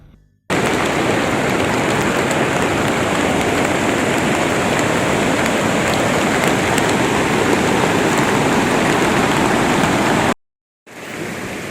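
Heavy rain pours in a dense, unbroken roar in Rajagiri, cutting out abruptly near the end before resuming briefly.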